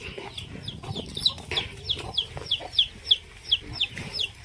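Chickens on a rural farm in Kalasin, Thailand, cluck in a regular series of short, sharp calls about every third of a second, close and moderately loud over a quiet outdoor background.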